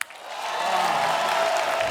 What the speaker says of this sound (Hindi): अब जो आ रही हैं उनके लिए भी जोरदार तालियां।